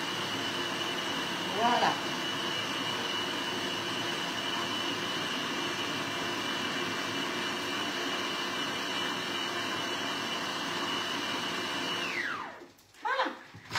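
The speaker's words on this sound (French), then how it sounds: "c'est un robot qui n'est pas trop bruyant. Même quand vous mixez à la vitesse maximale, eh bien au moins, c'est pas trop bruyant" A kitchen robot food processor runs continuously at speed 12, a steady loud whirring drone that holds for about twelve seconds, then winds down and stops, with a brief voice near the end.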